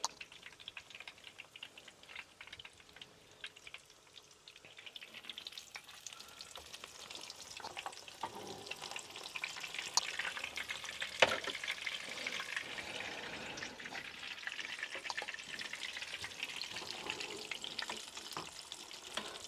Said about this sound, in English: grab that pork and drop it into your oil